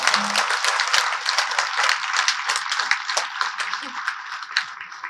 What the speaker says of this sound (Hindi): जोरदार तालियां बजाने के साथ